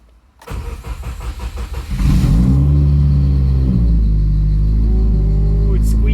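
A 2017 Subaru WRX cold-starts with a cranking churn that catches into a loud, deep idle rumble and brief revs, then settles into a steady low drone, close up, with talk around it.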